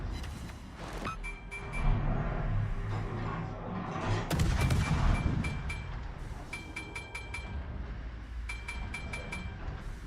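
Naval gunfire in the World of Warships video game, with heavy booming salvos and a loud, rumbling burst in the middle, set against continuous engine drone and scattered electronic beeps.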